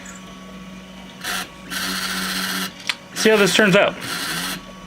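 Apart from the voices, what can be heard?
3D printer printing parts vertically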